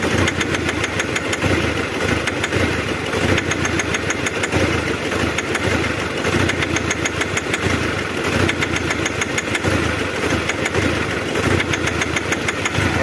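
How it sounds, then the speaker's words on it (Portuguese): A Nissan Frontier engine running badly out of timing idles roughly and unevenly throughout, loud and close, with a lumpy irregular pulse and no voices. "Então o motor tá bem fora de sincronismo"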